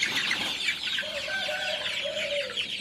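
Kathikal Peruvidai country hens cluck close by in a brief, busy burst of overlapping calls, with one drawn-out, rising cluck standing out.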